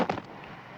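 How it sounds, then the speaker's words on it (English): A special effects explosion detonated on the set of The Empire Strikes Back: a sharp, loud burst with a brief crackling tail that quickly fades into low background noise. "Explosion 3."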